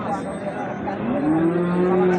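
A bull lows at a village cattle market, a rising, drawn-out moo that swells near the end over a steady hum of background crowd noise.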